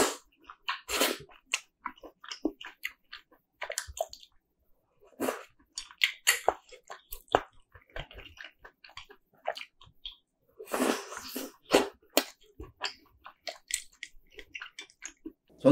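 Someone eats Yeopgi-brand rose sauce tteok-bokki, chewy rice cakes in a creamy spicy sauce, up close with no talking: a steady run of wet chewing, squishing and biting bursts.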